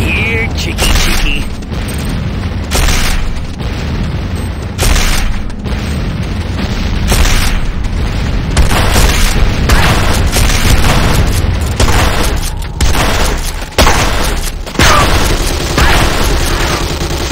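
Booming C4 blasts and bursts of gunfire from the Renegade Command & Conquer shooter, loud and repeated across a busy battle, with game voice lines heard over the noise.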